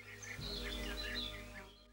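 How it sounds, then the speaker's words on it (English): Birds singing outdoors, with faint, scattered chirps and tweets over a steady low background hum, somewhat distant. "The birds are singing beautifully in my area."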